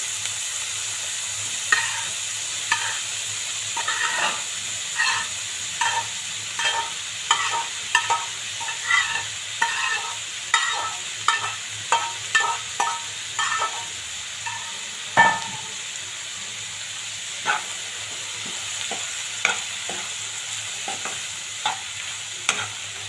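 Fried okra (ladies finger) is stirred into a pan with tomato for a palya. Repeated close spoon scrapes and taps sound over a steady sizzle, with no talking.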